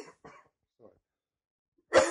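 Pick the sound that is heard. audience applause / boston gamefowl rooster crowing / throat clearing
throat clearing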